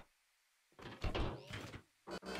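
Car doors being placed on a built car in Scrap Mechanic, a few short clunky thuds and knocks close by after a quiet start, with a brief pause between them.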